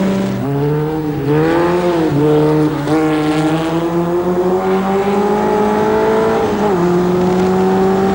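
A Vauxhall Junior one-make single-seater racing car accelerates hard, its engine climbing in pitch through several gear changes, loud and close, with no speech.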